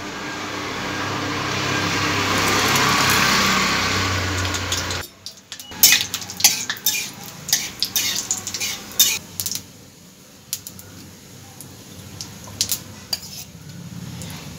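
Whole spices hit hot oil in a pan for chole bhature, giving a loud hissing sizzle that drops away into a run of sharp metallic clinks and scrapes from stirring.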